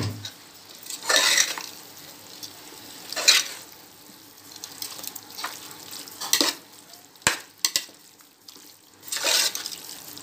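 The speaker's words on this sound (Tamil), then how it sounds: "இப்போ நம்ம வந்து கறியை போட்டலாம். கறியை போட்டு நம்ம கிண்டி விட வேண்டியதான்." Mutton pieces stirred in a hot pot of oil and masala while making dum biryani, with bursts of sizzling and frying and scraping spoon strokes that come and go over a steady background hiss, close by with no talk.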